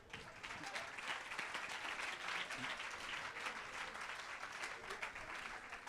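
Audience applause at a French-language fundraising seminar, a steady wash of many hands clapping at moderate distance, fairly even throughout with no clear talk over it.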